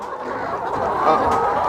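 Laying hens, Kenyan improved chickens, clucking steadily in a coop with a roost, a busy, continuous murmur of soft calls that stays fairly loud and close throughout.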